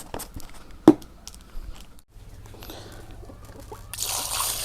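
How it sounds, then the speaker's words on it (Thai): Fresh squid is rinsed with plain water during cooking: quiet scattered drips and one sharp splash, then a soft rush of pouring water near the end. "แล้วก็ไปล้างออกด้วยน้ำเปล่าพี่น้องครับ"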